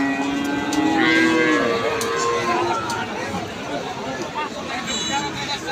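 Cattle at a busy livestock market moo in long drawn-out calls, several in the first half, over a constant murmur of crowd chatter and talking voices.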